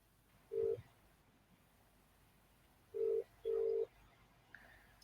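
Telephone call being placed, with three short electronic tones, one followed after a pause by two more in quick succession, clear against a quiet background.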